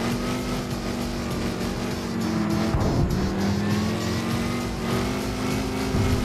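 Loud car engine roaring and revving in Gran Turismo 5, with tires squealing, an American muscle car driven hard; the tone dips and climbs again as it shifts through bends, steady throughout with no voices.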